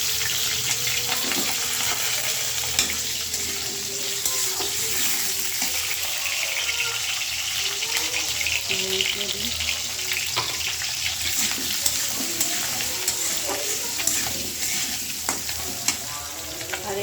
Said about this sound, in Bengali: তেজপাতা আর জিরা দিয়ে এবার আলুগুলো ভাইজা নেব